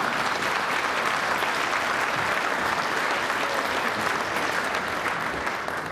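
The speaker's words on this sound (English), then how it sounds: "you can applaud for the American dream" Loud, continuous audience applause during a governor's State of the State address, a full hall clapping evenly throughout and only beginning to ease at the very end.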